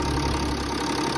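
A BMW X5 30d diesel engine idles steadily up close after timing chain replacement, a continuous low mechanical drone with slight knocking texture and no voices.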